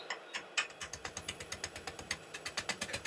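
Wood lathe spinning an out-of-balance cherry burr bowl blank about 35 centimetres across at 250 rpm, giving a quiet, steady rhythmic thumping and ticking several times a second with no voices.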